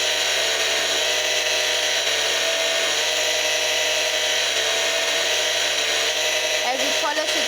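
A jewellery piece is polished on the outside on a polishing machine, a loud, steady high-pitched whir that runs throughout, with a voice speaking over it.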